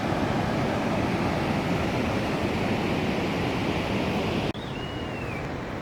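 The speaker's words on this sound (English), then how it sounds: "the river is going by." Steady rushing water of the Supin river, a mountain river, flows without pause, a constant wash of noise at moderate level with a faint high whistle near the end.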